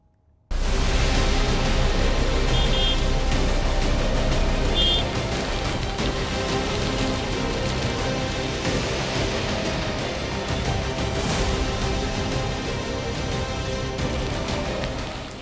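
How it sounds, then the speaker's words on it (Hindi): Torrential monsoon rain pours down in Kutch, Gujarat, a dense, loud, unbroken roar of water on surfaces that begins abruptly and holds steady to the end, with no talk. "आप देख सकते हैं कि कितनी मूसलाधार बारिश हो रही है।"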